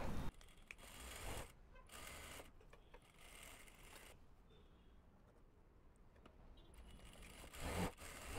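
A sewing machine runs in several short stitching bursts along a pant crotch seam, with brief pauses between runs.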